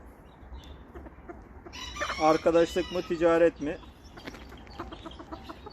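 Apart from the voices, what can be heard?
Ko Shamo chickens, white hen and rooster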